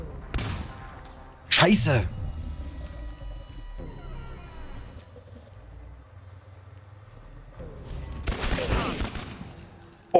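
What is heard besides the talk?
gunshots in the video game ChernobyLite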